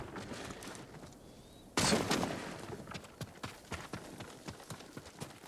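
Horse hooves in the video game Ghost of Tsushima, a burst of loud noise giving way to a steady rhythmic clip-clop of galloping at close range, with no talk.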